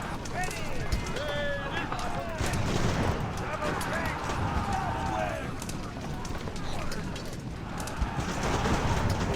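Friendly musket volleys and artillery fire in Ultimate Admiral: Age of Sail, a naval battle game, crackle as dense, continuous gunfire with sharp reports throughout, mixed with a busy battle soundscape and talk over the top.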